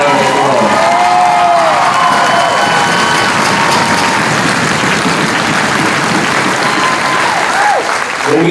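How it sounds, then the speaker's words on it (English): A large outdoor rally crowd in Front Royal bursts into loud, sustained applause and cheering, dense clapping mixed with whoops and shouts that stays near and full the whole time. "Give yourself a round of applause."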